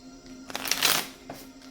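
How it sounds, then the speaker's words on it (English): A quick riffle of tarot cards being shuffled, a brief papery flutter that swells and fades, with a faint tap afterward. "2 more shuffles"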